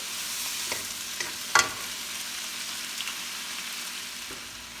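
Fish sizzles steadily in a hot frying pan for sweet and sour fish, with a continuous crackling hiss broken by a few brief stirring clicks, one sharper scrape standing out midway, and no talking.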